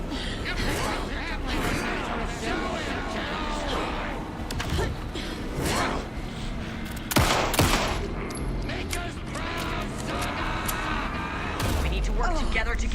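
Repeated bursts of gunfire rattle through a tense combat scene in the video game Alan Wake 2, with sharp loud cracks under a steady bed of game noise while voices talk.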